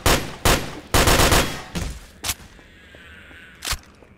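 A Tommy gun fires in Garry's Mod (Half-Life 2) in sharp, loud bursts of rapid shots, three or four close together, then a few isolated cracks over a quieter game background.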